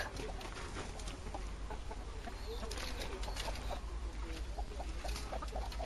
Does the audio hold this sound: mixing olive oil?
no